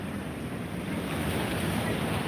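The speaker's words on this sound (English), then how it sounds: "Hopefully the waves don't cause too much audio chaos." Ocean surf washes steadily against rock pools on a windy shoreline, a continuous broadband roar of breaking waves with wind buffeting the microphone, loud and close with no voices.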